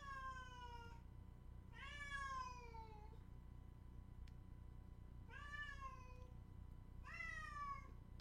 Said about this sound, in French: Vous savez pourquoi elle miaule là?